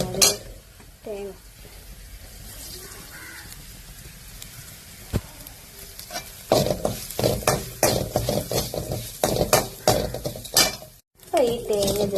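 Sliced onions with turmeric powder stirred and sautéed in a pan while making a pig curry, with soft sizzling under repeated scraping and clattering strokes that grow louder and busier toward the end, broken by a brief pause.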